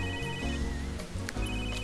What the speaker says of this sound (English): I'm not gonna answer your phone this time anyways